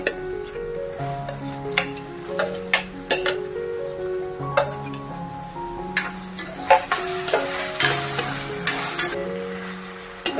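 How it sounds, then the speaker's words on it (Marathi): Tomato being stir-fried with softened onion in a pan for a drumstick mixed vegetable sabji, giving a steady sizzle broken by repeated scraping and clinking of a spoon against the pan, close and moderately loud with no talking. "कांदा मऊ झाला, मऊ परतून झाला की मग आपल्याला टोमॅटो घालायचा। आता टोमॅटो घालते।"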